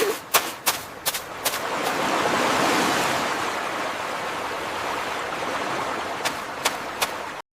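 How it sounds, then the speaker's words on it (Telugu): A fast-flowing river in a 3D animated jungle cartoon rushes with a steady broad wash, while sharp clicks and ticks punctuate the start and end. "నది వేగంగా ప్రవహిస్తోంది."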